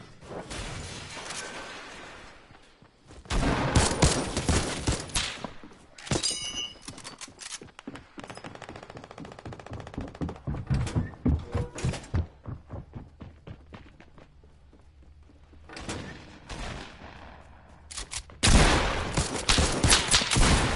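A video game's infantry rifle fires in bursts of rapid, loud gunshots, with sharp cracks and repeated volleys across the stretch, broken by short quieter gaps.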